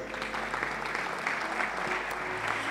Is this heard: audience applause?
yes